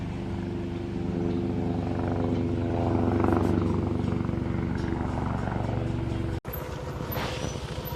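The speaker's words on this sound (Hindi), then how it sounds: "वो देखो गाइस हेलीकॉप्टर" A steady, low rotor drone of a helicopter flying overhead at the Maaldevta riverside fills the recording, swelling slightly louder in the middle before a brief dropout near the end.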